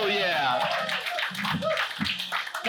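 Comedy-show audience applauding comedian Mike in a live venue, a dense continuous wash of clapping and cheering with a host's voice speaking over it throughout.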